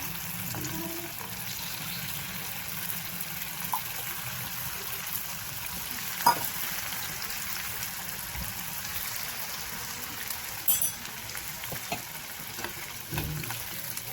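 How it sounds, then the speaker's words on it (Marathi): Chicken popcorn pieces deep frying in hot oil, a steady sizzle and bubbling throughout, with a few faint clinks and stirring touches near the pan and no talking. "मी ते डीप फ्राय करत आहे."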